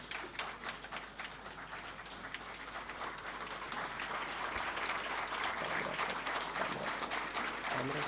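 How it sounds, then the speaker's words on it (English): An audience at a foundation day ceremony breaks into applause, the dense clapping starting moderate and swelling into a sustained, even patter from a large crowd heard at a distance. "Let's give a big round of thunderous applause, everyone."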